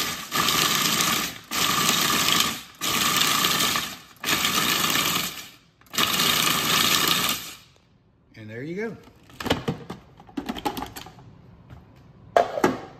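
Pork rinds are ground into panko-style crumbs in a food processor, which runs in several loud, close bursts of whirring and rattling, each about a second long, then stops, leaving softer clatter and handling noises.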